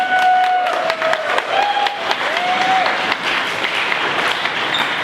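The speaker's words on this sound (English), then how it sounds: "So I'll give everyone a round of applause for Lisel." Steady audience applause fills the whole stretch, with a few whistled notes and cheers rising over the clapping.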